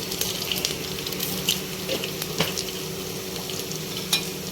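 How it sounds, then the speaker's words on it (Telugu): Ginger garlic paste and turmeric fry with onions in a pressure cooker for a taro curry, giving a steady close sizzle with occasional soft stirring scrapes and no voices. "ఇప్పుడు అల్లం వెల్లుల్లి పేస్ట్ వేసుకోవాలి."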